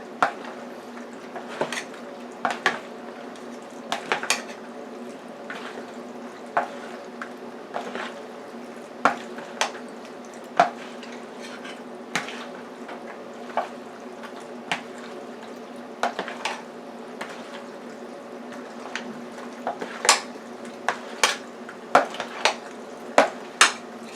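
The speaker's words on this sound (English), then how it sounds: "Just going to mix the sauce in with the ziti." Sauce being stirred into ziti in a pot, with repeated sharp clinks of a utensil against the pot over a steady low kitchen hum, close and moderately loud, irregular but frequent.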